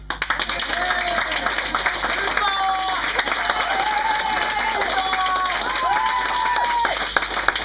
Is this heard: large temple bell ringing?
no